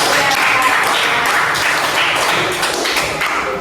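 A third-grade class claps for a pupil, loud dense applause from many small hands close by, steady for a few seconds before easing slightly.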